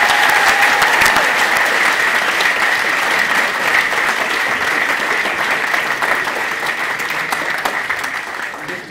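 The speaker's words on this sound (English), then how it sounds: "Can we have a round of applause?" Sustained applause from a school audience at a senior house drama event on stage, dense and steady clapping that stays loud throughout before slowly thinning toward the end.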